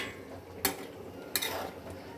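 Rui fish curry with papaya and potato being served from the pan into another dish: two sharp clinks of a utensil against the pot about a second apart, with scraping and soft stirring around them.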